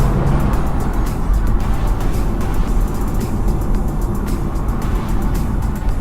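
A BMW Z4 20i rear-wheel-drive roadster driving, its steady engine and road drone loud and continuous throughout, with no voices over it.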